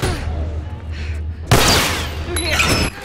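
Gunfire erupts in The Last of Us Remastered: Left Behind combat, a sudden loud burst of shots around the midpoint after a quieter stretch, with the clatter continuing through the second half.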